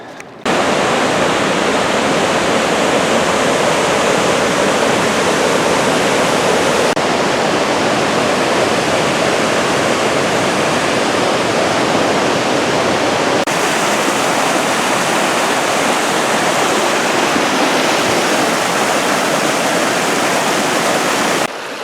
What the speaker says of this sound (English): it's flowing so much today